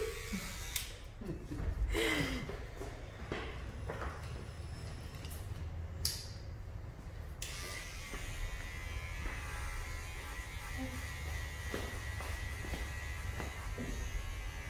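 Electric hair clippers buzz steadily through a haircut at a Turkish barber's shop in Australia, a close continuous drone with brief louder bursts, over background room noise and faint talk.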